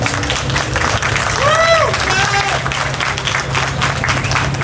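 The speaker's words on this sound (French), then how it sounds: "j'aimerais qu'on l'applaudisse encore" Sustained applause from a crowd at a car enthusiasts' gathering, steady and fairly loud throughout, with a voice and whistle-like tones rising briefly above the clapping.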